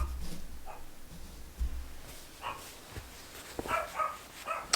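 A dog indoors gives scattered faint barks and whimpers, short soft yips spread unevenly over a few seconds against low background noise.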